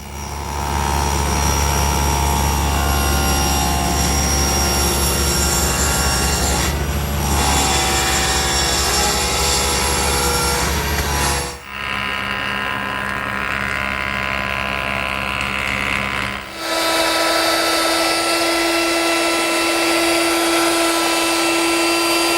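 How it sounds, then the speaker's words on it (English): A table saw trims a wooden mirror frame piece, with a loud steady whine running continuously and shifting in pitch and tone as the cut proceeds and the blade spins down. "You can see I need to trim about 1/8 of an inch, and I'll do that at the table saw."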